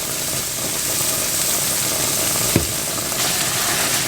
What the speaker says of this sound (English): And I basically just fry it.